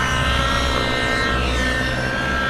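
An RC helicopter performs an aerobatic autorotation, its rotor giving off a loud, continuous whooshing roar that holds steady and close throughout.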